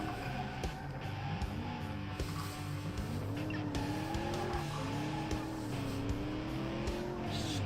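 In a video game, a car on chunky off-road tyres squeals across tarmac, a wavering tonal screech riding over a steady engine drone, continuous and fairly faint.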